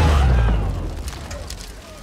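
In a Marvel Cinematic Universe film, the Hulk explodes with a deep, heavy boom that hits at once and then fades into a low rumble over about two seconds.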